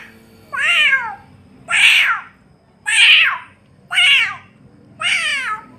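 A young boy imitates a cat with his voice, giving five drawn-out, rising-and-falling meows at steady intervals. The calls are close and clear, with no other sound around them.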